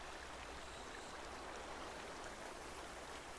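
Steady rushing of a flowing stream in the Black Myth Wukong video game, a constant soft wash of water with no breaks, quiet and even throughout.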